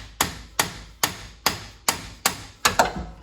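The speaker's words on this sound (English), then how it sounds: "get a little drift here from the front, put it on here, and we'll just tap it off." Seven sharp metallic hammer taps on a steel drift, knocking out a steering bolt on a Mustang, evenly spaced about half a second apart, the last two close together, loud and near with no talk.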